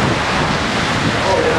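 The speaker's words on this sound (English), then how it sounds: "The wind's changing direction a little bit" Wind blowing while riding a scooter, a loud, constant roaring buffet of rushing air across the microphone that drowns out other sounds.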